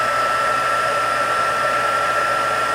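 A heat tool blows steadily over puff paint on a stamped holiday card, a constant whooshing hum of hot air that holds level for the whole stretch with no talk.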